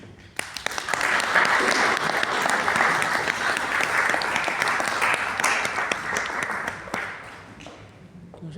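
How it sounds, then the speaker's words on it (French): Audience applause at an evening gathering swells quickly into dense, sustained clapping from a sizeable crowd, holds for several seconds, then fades out, with a few faint voices underneath. "Je vous demande d'applaudir Madame Ben Suzanne."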